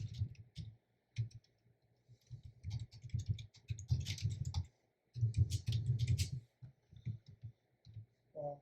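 Code being typed on a computer keyboard in bursts of rapid, close key clicks separated by short pauses, with no talking.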